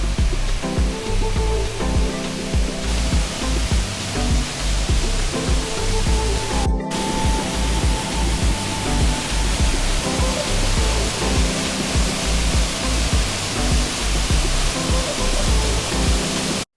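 Waterfall in Oregon, a continuous loud roar of falling water, steady and close throughout with one brief dropout.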